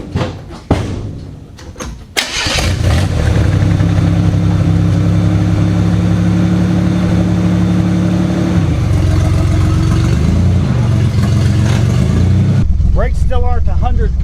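A Chevy LUV pickup truck door thuds before its engine starts and idles with a steady mid-pitched drone, then revs as the truck pulls away, loud and close, with a voice briefly at the end.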